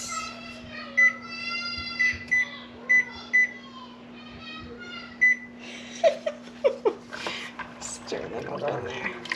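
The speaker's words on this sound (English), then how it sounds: "I always set the kitchen timer for my noodles" Kitchen timer set while cooking pasta noodles for creamy alfredo, giving a series of short electronic beeps, about seven spaced blips over a steady hum, followed by clattering and stirring sounds.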